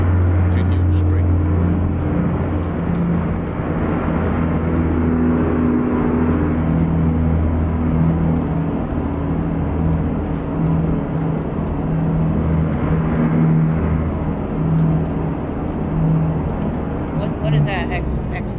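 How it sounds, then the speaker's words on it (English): A loud truck engine in American Truck Simulator with realistic mods, a continuous deep droning rumble with a faint high whine, steady and dominant throughout, with voices talking over it. "That's how loud this truck is."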